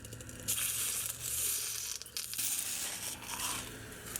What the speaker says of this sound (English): The marble has started cracking and chipping, but only in the outside layer.